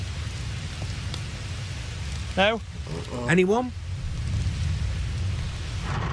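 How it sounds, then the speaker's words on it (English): Steady rain falls outdoors, a continuous hiss of drops on surfaces that runs beneath a couple of short spoken phrases and continues alone afterwards. "You're not going to melt in the rain, don't worry."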